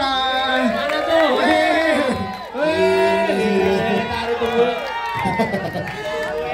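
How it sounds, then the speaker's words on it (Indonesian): A film press conference audience for the horror thriller Lembayung cheers and whoops loudly, with crowd voices continuing throughout and a brief dip midway. "Tepuk tangan untuk Mas Oke Antara."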